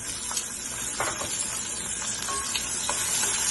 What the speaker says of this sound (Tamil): நமக்கு வெங்காயம் கத்திரிக்காய் நல்லா வதங்கி வரட்டுங்க